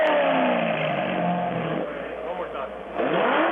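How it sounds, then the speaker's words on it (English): A 2009 Chevrolet Corvette ZR1 engine fires up and revs loudly over about three seconds, the roar dipping briefly before surging again, with a thin phone-like quality. "are we ready to fire up my 2009 ZR1 Corvette?"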